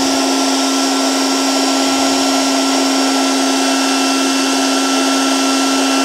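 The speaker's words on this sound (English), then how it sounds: "The tool itself is pretty noisy, so you're gonna hear some fans." A KKSevens magnetic induction heater runs with loud, noisy cooling fans, producing a constant close whirring roar with a steady high hum throughout.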